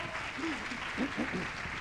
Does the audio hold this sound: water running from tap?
no